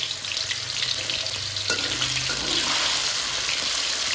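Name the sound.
tofu frying in hot oil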